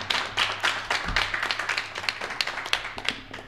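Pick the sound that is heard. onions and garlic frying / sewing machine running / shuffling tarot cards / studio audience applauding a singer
studio audience applauding a singer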